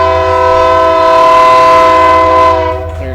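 A passing train's whistle on the south side of Indianapolis, near a ballgame, sounds as a loud, steady, tonal blast lasting nearly three seconds before tapering off.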